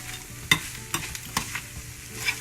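Vegetables and beef for shepherd's pie stirred in a hot pan, a low sizzle broken by several sharp scraping clacks of the utensil at uneven intervals.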